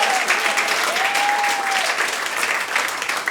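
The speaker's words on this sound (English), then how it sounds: "Everybody, give yourselves a round of applause." Applause fills the room at a stand-up comedy show, a steady, loud wash of clapping from the crowd with a thin high tone briefly running through it.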